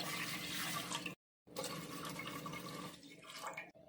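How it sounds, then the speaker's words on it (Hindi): Water is poured from a bowl into a pressure cooker, a steady splashing pour that breaks off briefly and then resumes, close and fairly quiet. "इसी सेम बाउल से हम 3 बाउल पानी ले लेंगे।"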